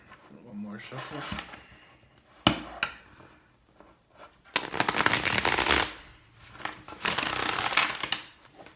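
Tarot cards are shuffled in bursts of papery riffling and soft slaps between quieter pauses. A voice talks faintly in between.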